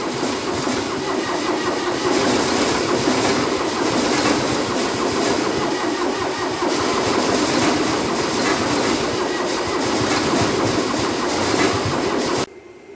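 An old CompAir mobile compressor's engine cranks and runs, a loud, rough, steady diesel chug with a pulsing rhythm, close by, cutting off abruptly near the end.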